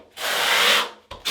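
A notched trowel (1/4 inch notch) drags stiff thinset mortar across Gold Bond EXP backer board in a shower niche, making a close, gritty scrape that lasts under a second, followed by two short rasps.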